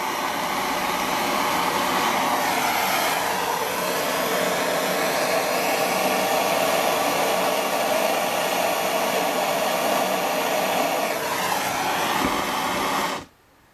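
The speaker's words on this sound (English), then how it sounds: "it'll get quite noisy when I fire up the blow lamp" Blow lamp flame roars steadily at close range while silver soldering rigging fork ends, a loud continuous rushing hiss lasting over ten seconds before cutting off abruptly.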